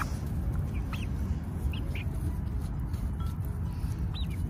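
Chickens and a rooster in a yard, a few short clucks and squawks over a steady, loud rumbling background noise.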